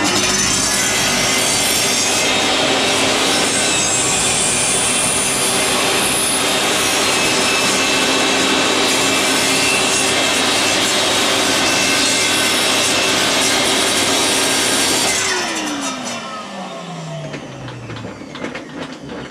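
A table saw whines loudly as it cuts a wooden guide for a crosscut sled for about fifteen seconds, then the blade winds down, its pitch falling as it slows.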